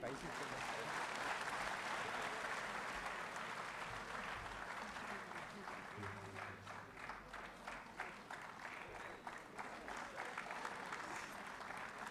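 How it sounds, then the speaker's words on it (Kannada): An audience at an award presentation ceremony claps loudly and steadily, a dense sustained applause with no pause. "ಜೋರಾದ ಚಪ್ಪಾಳೆ ಬರಲಿ."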